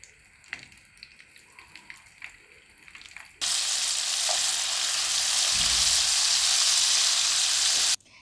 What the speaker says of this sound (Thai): อันนี้เราก็จะคลุกปลาของเราบางๆนะคะคลุกแค่บางๆค่ะแล้วก็นำไปทอดนะคะ